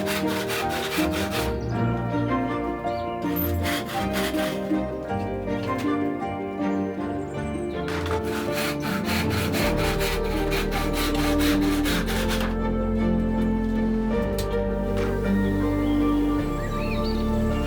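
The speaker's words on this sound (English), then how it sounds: "I can now cut all these out with the saw down each side" A hand saw cuts out old roof battens in repeated back-and-forth rasping strokes, close and loud, pausing briefly between bursts of sawing.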